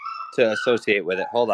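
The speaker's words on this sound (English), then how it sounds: "that's my dog." A dog barks and yips in quick close bursts, a series of sharp whimpering barks cutting over a voice.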